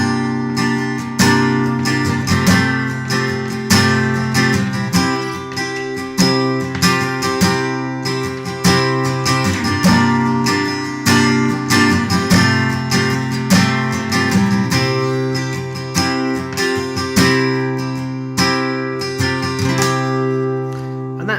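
Steady strummed guitar chords from a song repeating in a rhythmic pattern, with quick pinky hammer-on notes ringing within each chord, played close and alone.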